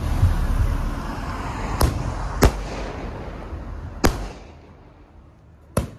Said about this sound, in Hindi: पटाखे वटाखे चल रहे हैं यहाँ पे,